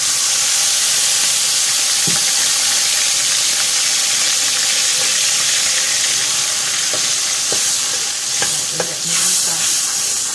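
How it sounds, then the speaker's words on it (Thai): Chicken legs stir-fried in a pan with a steady, loud sizzle and hiss, broken by scattered scraping stirs and clinks near the end, with no talk. "เราจะใส่เรียงทีเดียวนะคะเล้วก็ผัดขานะคะ ผัดขาไก่นะคะ"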